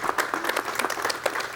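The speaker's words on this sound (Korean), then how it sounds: "여러분 박수를 부탁드리겠습니다" A studio audience at a 1986 Korean television talk show claps together to welcome an actor, giving a brisk, full burst of applause for a second and a half.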